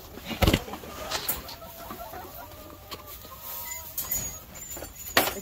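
Chickens cluck inside a backyard coop, with scattered short calls and scratchy movement at a moderate distance and a few louder bumps near the start and end.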